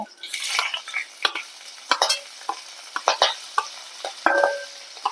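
Curry leaves and green chillies drop into hot oil for an egg curry, giving bursts of close sizzling and spattering with a few utensil scrapes and clinks, rising and falling in short uneven spurts with no talking.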